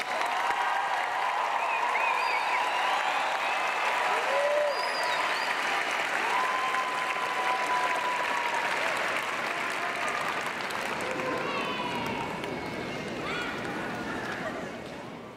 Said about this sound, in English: All right, one more round of applause for our new graduates.